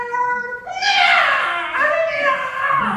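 A human voice imitating a cat's meow, a drawn-out whiny wail that rises and bends in pitch, close and clear, with no real animal present.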